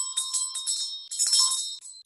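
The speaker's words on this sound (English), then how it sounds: "Just do the bell" A bell rings during a Nolsang instruction session: bright, sustained metallic ringing in two clusters with a brief gap between them, clear and close with no talk.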